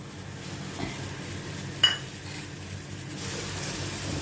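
Onion and spice paste sauté in a pan, a steady low sizzle with occasional spoon scrapes and one sharp clink against the metal, close and fairly quiet with no talking.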